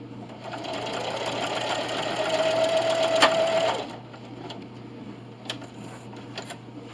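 Sewing machine stitching a receiving blanket, a steady fast whirring run of several seconds that stops, followed by quieter handling clicks.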